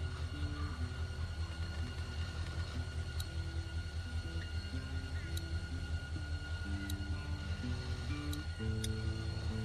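Steady low rumble and rhythmic clatter of a train rolling along in The Walking Dead video game, continuous and close, with faint higher mechanical tones and occasional soft clicks over it.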